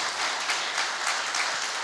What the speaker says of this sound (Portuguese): Aplauda Jesus Cristo bem forte.